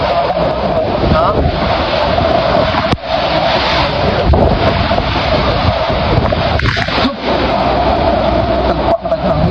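Steady roaring wind noise fills the clip, loud and close, with brief dips and voices faintly underneath.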